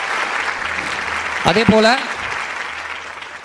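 Applause from an audience at a one-day makeup and hairstyle workshop, a steady crowd patter running throughout with a voice speaking briefly over it midway.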